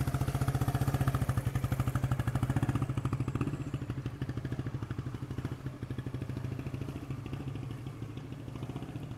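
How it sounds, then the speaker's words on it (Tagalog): A Honda GT-R 150 motorcycle performing riding skills drills, its engine pulsing in a fast regular beat close by, strongest at first and then easing slightly as it carries on steadily. "meron tayong Honda GT-R 150 na nag-i-skills ngayon"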